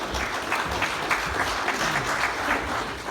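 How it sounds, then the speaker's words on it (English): Steady applause from a small audience at the 2020 Cavan club hurling championship draw, a continuous patter of hand claps heard on its own with no talking. "Give them a huge round of applause, please."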